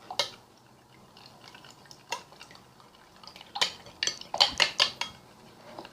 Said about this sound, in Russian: примерно вот столько выливаем и все это перемешиваем